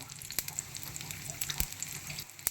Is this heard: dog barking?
no